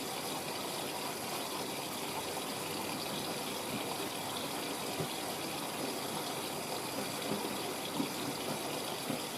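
A washing machine on its rinse cycle with fabric conditioner, water rushing and swishing steadily at a constant, moderately quiet level with no pauses.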